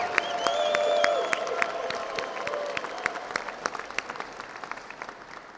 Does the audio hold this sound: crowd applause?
yes